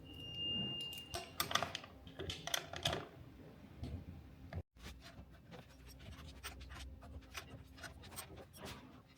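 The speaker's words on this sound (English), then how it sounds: "we're going to want to do the same thing again and just go around with a follow-up torque on every bolt" Bolts on an AODD air pump are given a follow-up torque with a wrench. Quiet, close bursts of quick clicking and scraping repeat throughout, with one brief gap midway.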